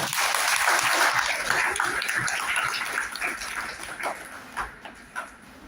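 A lecture hall audience claps loudly to welcome a speaker, dense applause that gradually thins into scattered claps and fades.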